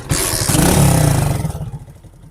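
A hot-wired motorcycle on a Karachi street starts and its engine rumbles loud and close, then the sound fades into a softer, uneven putter as it settles.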